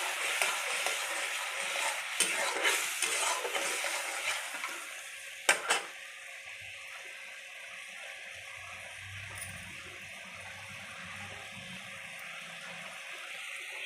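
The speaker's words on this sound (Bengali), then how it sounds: "ওই তেলের মধ্যে অল্প একটু কালো জিরে ফোড়ন দিলাম, বেটে রাখা আদা রসুনের পেস্টটা দিয়ে দিলাম" Nigella seeds, ginger-garlic paste and green chilli frying in hot oil in a pan, a loud close sizzle with stirring scrapes and a couple of sharp knocks before the hiss dies down to a quiet simmer.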